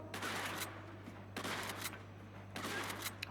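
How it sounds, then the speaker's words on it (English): A SPAS 12 shotgun fires three booming blasts at almost point-blank range in Uncharted: Golden Abyss. The shots come about a second and a quarter apart at fairly low volume, and no one speaks. "From a SPAS 12 at almost point blank range."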